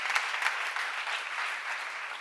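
A church congregation at a seminar applauds with a dense, even wash of clapping that holds steady throughout, with no voices standing out.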